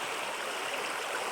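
Steady rushing hiss of a mountain river current in Yakutia, close and even with a bright splashing texture throughout, no voices.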